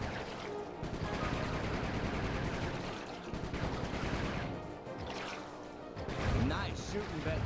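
Rapid repeated gunfire as Bentley shoots in the PS2 game Sly 3, a dense continuous stream of shots with crashes and impacts, heard alongside game voices and speech.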